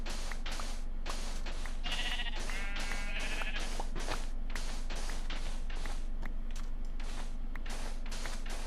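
Sheep in a Minecraft sheep pit bleat several times in short, overlapping calls, set against a quick, regular run of soft tapping steps at a modest level.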